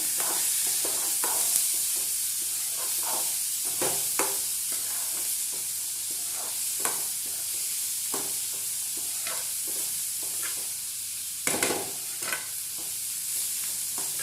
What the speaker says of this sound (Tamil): இப்போ இந்த மூக்கடலையை நான் இதில் போட்டு போகிறேன்